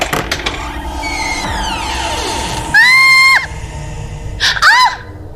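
In a haunted mansion, a piercing scream rings out as a strange door is opened. A long shrill cry is followed by a second, shorter one, both loud and close over a steady background.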